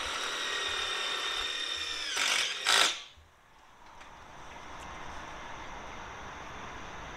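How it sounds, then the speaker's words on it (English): A power drill drives screws through a rail into slide topper brackets on a New Horizons 5th wheel trailer, a steady whining run followed by two short bursts that end abruptly, leaving quiet background hiss. "Then they'll put about 3 screws in each bracket through the rail into the bracket."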